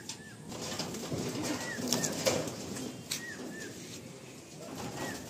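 Andhra and Madrasi pigeons coo in a loft, a rolling low murmur with several rising call shapes scattered across it, and now and then a brief rustle or flap of wings close by.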